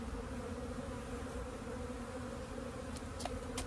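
Honeybees buzz steadily around a freshly transferred nucleus colony at a backyard hive, a dense, continuous hum with a few sharper passes of individual bees close by toward the end.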